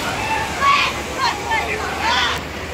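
Water gushes steadily from a burst water main in Toritama, flooding nearby houses, a continuous rushing and sloshing roar heard close by while someone talks over it.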